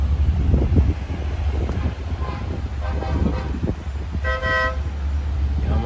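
A truck climbs the Winston Jones Highway in Jamaica, with heavy wind rumble and road noise close to the microphone and a brief horn toot near the end.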